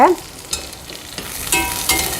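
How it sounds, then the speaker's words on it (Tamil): Sliced garlic sizzling and frying in oil in a pan, with a few scraping stirs of a utensil throughout, steady and close. "பூண்டு பற்களையும் சேர்த்துட்டு அதையும் பச்சை வாசனை போகிற வரைக்கும் நல்லா வதக்கிக்கோங்க."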